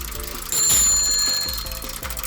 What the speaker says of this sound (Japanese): 自転車、 自行车。